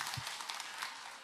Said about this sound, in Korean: 할렐루야 박수로 화답하겠습니다